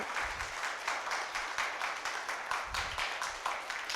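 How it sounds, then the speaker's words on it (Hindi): Church congregation clapping loudly together during a Pentecost Sunday testimony service, a dense, steady patter of many hands with a few low thumps, sustained for several seconds. "सो एक ज़ोर से ताली हो जाए खुदावंद की पाक हज़ूरी के लिए।"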